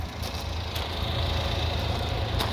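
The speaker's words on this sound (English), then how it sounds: "Engine, listen how quiet it is." A Honda Acty's small engine idling smoothly, a low steady rumble close by with an even level and no revving, alone without voices.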